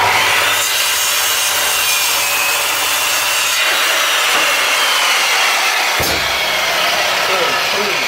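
A restored large Makita circular saw cuts a thick piece of Australian hardwood, a loud, continuous close-up whine and rasp of the blade biting through the wood with little change throughout.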